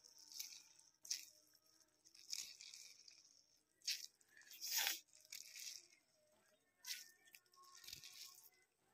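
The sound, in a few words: squeezing water out of salted cabbage and carrot by hand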